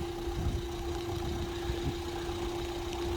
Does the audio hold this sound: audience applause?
no